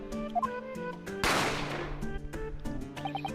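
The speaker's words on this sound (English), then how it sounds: "a gunshot rang out from the dining area" A single loud gunshot bursts out from a dining area amid a dramatic dubbed game scene in The Great Ace Attorney, cutting sharply through tonal music and decaying over about a second.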